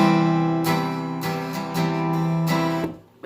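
Acoustic guitar chords strummed clearly and up close, several strums ringing in sequence with sustained harmonic tone before fading out at the end; no talking.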